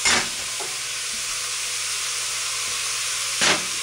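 Tuscan-style spaghetti meat sauce of sausage and beef frying in a pan, giving a steady hiss and sizzle. A few sharp scrapes of stirring come at the start and again near the end, with no voices.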